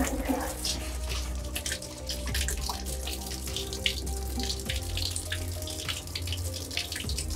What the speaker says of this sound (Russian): И вода проходит теперь так вот.